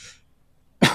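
A single sharp cough near the end, inside a gurdwara in Pakistan, preceded by a brief faint breathy noise and quiet.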